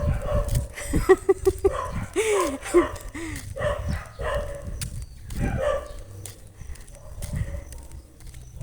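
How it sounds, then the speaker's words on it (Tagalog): Dogs bark and yelp back and forth in short bursts, with whimpering and growly barks mixed in, fairly close. "Nagdidiskusyonan yung dalawa kong aso."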